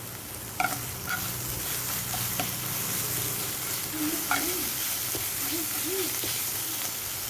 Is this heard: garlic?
yes